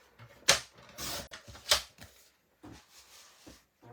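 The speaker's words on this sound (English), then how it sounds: "And then I'm going to cut it again at 5 inch." Cardstock being cut to size for a stamped card makes several crisp close-up chopping and sliding strokes in an uneven rhythm, with quiet pauses between them.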